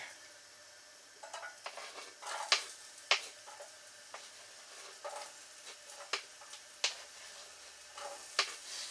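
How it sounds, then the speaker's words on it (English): Onions sautéing in a pan for a Moroccan spiced chickpea soup, giving a steady, quiet sizzle broken by sharp pops and crackles at irregular moments, with no voices. "And then we'll get the onions sauteing."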